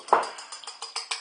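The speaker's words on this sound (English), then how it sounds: "Beat the egg up." An egg being beaten in a bowl for coating hot and spicy pork and chicken balls, a quick series of about eight light rhythmic whisking taps, close and clear, no talk.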